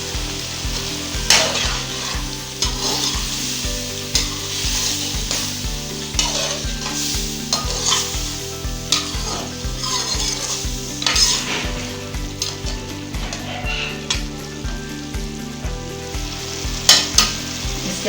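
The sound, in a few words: chicken karahi being stirred and fried in a pan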